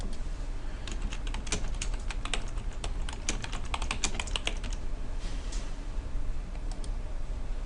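Steady typing on a computer keyboard, rapid continuous key clicks heard up close with no pauses and no voices.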